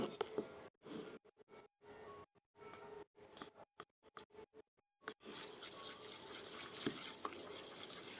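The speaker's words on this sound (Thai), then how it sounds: "ก็ คนให้เข้ากันนะ" Slime mixture stirred in a bowl to blend it, a soft scraping, sticky swish repeated in short bursts with pauses, then a steadier stretch of mixing near the close.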